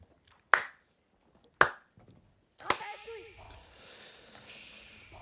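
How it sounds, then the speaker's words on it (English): During a live game cast, a few sharp, isolated hand claps crack out close to the microphone, spaced about a second apart, followed by quieter game sounds. "Hopefully you could hear the sarcasm in my clap."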